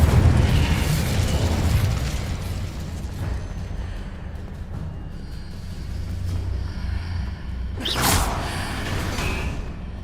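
An Incendio fire spell in Hogwarts Legacy erupts as a deep, roaring rumble that slowly fades, followed by a sharp whooshing burst of flame near the end.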